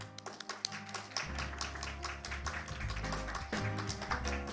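Applause from an audience at a corporate governance awards ceremony in Korea, a dense patter of clapping hands that swells after a second and carries on steadily, loud and close.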